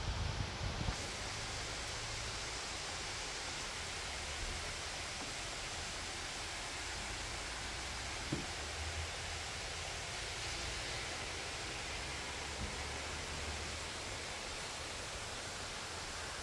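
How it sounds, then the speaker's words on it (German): Rain falls steadily outdoors, a soft continuous hiss with faint scattered patters, fairly quiet and unbroken, no voices. "Es regnet, es regnet."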